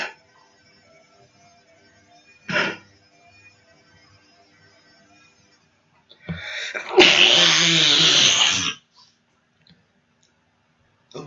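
A single loud, close sneeze bursts out after a quiet stretch, preceded by a brief sharp sniff or click.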